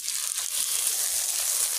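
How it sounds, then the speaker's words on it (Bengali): Steady frying hiss and crackle from a pan of spiced potato and soybean curry as water meets the hot masala, a bright, close sizzle that holds evenly throughout. "এবারে জল দিয়ে দেব।"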